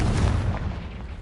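A Confringo blasting spell goes off in Hogwarts Legacy: a deep, booming explosion that hits at once and rolls off into a fading rumble.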